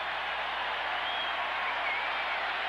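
A football stadium crowd at an NFL game cheering, a broad, even roar of distant voices that holds steady throughout without distinct peaks.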